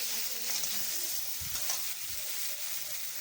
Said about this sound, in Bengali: এবার ফুলকপি আলুটা দিয়ে একটু নাড়াচাড়া করে নেব।